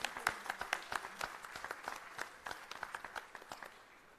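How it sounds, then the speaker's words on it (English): A ceremony audience applauds in a sparse, distinct round of claps at the ISEE 2022 inauguration, individual hand claps standing out in an uneven rhythm at moderate distance, with no talk over them. "Let's give them a round of applause, please."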